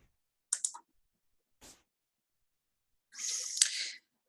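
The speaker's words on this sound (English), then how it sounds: "By clicking on the plus," Computer mouse clicks while navigating program listings on screen, a few short sharp clicks at close range separated by pauses, with a longer burst of clicking near the end, no talking.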